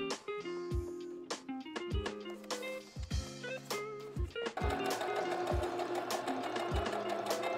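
A sewing machine stitches a straight seam on a beginner's top, its rapid mechanical whir starting and stopping in short bursts close by, then settling into a longer continuous run.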